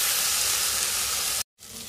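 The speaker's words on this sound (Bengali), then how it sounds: "টমেটো কুচি কাঁচা লঙ্কা কুচি দিয়ে ভালো করে নেড়ে দিতে হবে" Chopped tomato and green chilli, with chopped onion, sizzle loudly in a hot pan as they are stirred. The hiss is steady and close, cuts out for a moment, then resumes.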